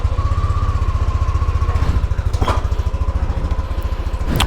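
A Yamaha NVX scooter engine idles close by with a steady, fast, throbbing pulse, loud and continuous, with a couple of faint clicks over it.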